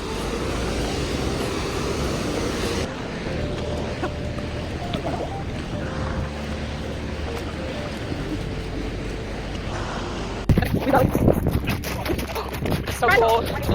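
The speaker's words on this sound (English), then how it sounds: "it's so windy down here" Strong wind roars and buffets the microphone near a waterfall in Iceland, a loud continuous rumble with bursts of gusting, rough and close throughout.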